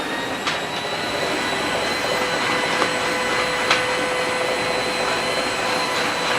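A Shark steam mop running with its pads spinning, a steady, loud whirring drone with a faint high whine, continuous and close, without talk.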